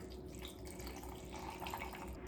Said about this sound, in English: Okay, we got 2 cups of water. We're gonna pour it into here.